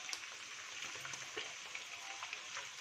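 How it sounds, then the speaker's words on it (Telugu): Chicken fries in a pan with ginger garlic paste, giving a steady, soft sizzle with scattered small pops and crackles throughout, fairly quiet and with no talking. "అల్లం వెల్లుల్లి పేస్ట్ చికెన్ని కూడా బాగా ఫ్రై చేసుకోవాలండి"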